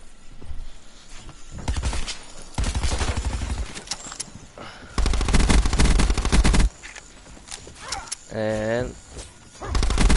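Gunfire in the video game Rusty Blackout comes as loud bursts of automatic shots in several separate volleys, with someone talking over it between the bursts.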